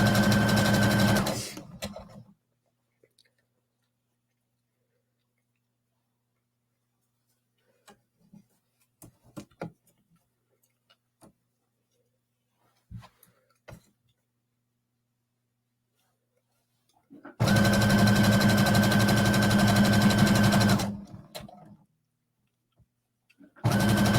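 A sewing machine stitches leggings in two loud, steady bursts, a short one at the start and a longer run near the end, with near silence and faint handling clicks between them.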